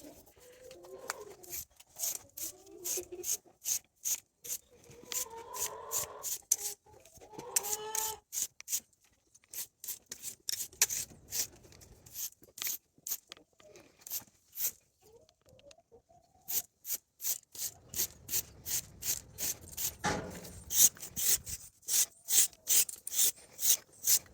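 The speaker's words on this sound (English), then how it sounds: "And with my trusty shedding blade, I will begin." Shedding blade scraping the coat of a miniature horse, steady rhythmic raspy strokes repeating close up, with birds cooing and calling in the background.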